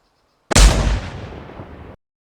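A single heavy Panzerfaust launch from the Arma 3 IFA3 WarMod game, one loud sudden blast with a booming rumble that trails off over about a second and a half before cutting out.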